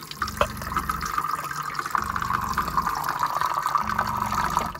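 Water running steadily from a faucet in a travel trailer's washroom sink during dewinterizing, a continuous close splashing stream with low knocking pulses repeating under it.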